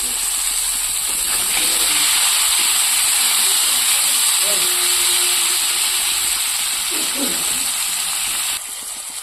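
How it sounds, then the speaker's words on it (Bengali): Onion, tomato and green chili frying together in a pan, a loud, even hissing sizzle with faint stirring scrapes heard close up across the whole stretch. "এর মধ্যে আমি পেঁয়াজ টমেটো কাঁচা লঙ্কা সব তুলে দিচ্ছি একই সাথে"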